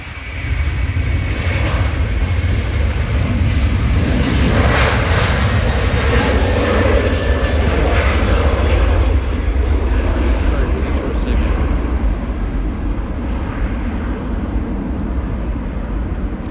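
An Air New Zealand Boeing 777-300 in All Blacks livery takes off, a loud continuous jet engine roar with deep rumble that stays strong throughout and fades slightly toward the end, heard close from outside the airport.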